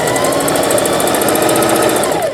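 A sewing machine running a zigzag stitch through denim, steady and close with a fast, even mechanical chatter that runs unbroken from start to finish.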